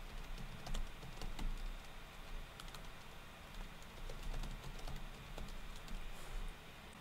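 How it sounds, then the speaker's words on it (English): Typing on a computer keyboard while editing files in an IDE, a quiet, steady patter of quick key clicks with brief pauses and no voices. "and you can start typing"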